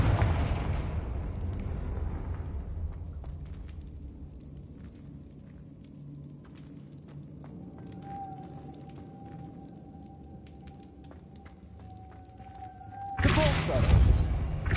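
A Confringo explosion spell goes off in Hogwarts Legacy with a loud blast that decays into a long, low rumble, a faint sustained tone, then a second sudden burst near the end.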